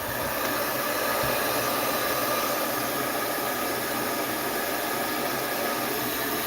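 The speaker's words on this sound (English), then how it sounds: "this is an older hair dryer, so it takes a minute to warm up" Steady, dense whooshing blower hiss with a faint motor hum underneath, running continuously and fairly loud with no pauses or voices.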